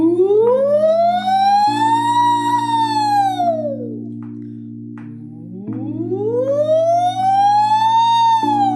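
A voice imitates a siren, sliding smoothly from low to high and back down, twice, over a steady sustained background tone.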